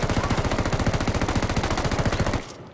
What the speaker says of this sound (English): Let's do a quick recoil test with 30-round mags